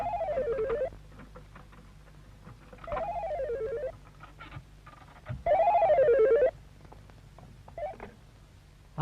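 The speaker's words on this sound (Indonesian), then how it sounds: "ada telepon" A telephone rings in repeated warbling bursts, three long rings and a shorter one, clear and fairly close against a quiet room with a low steady hum.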